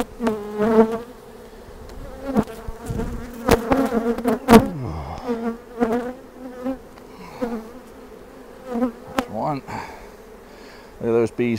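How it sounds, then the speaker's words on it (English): Honey bees buzz around a beehive entrance, individual insects whining past close by in repeated overlapping drones over a steady background hum. "Look at those bees pouring in the entrance."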